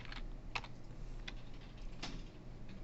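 Quiet keystrokes on a computer keyboard as code is typed: a few sparse, soft clicks over a faint steady background hum.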